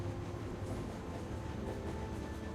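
Train running in The Walking Dead Telltale game, a continuous low rumbling rattle of rail wagons that stays steady and fairly loud with no voices.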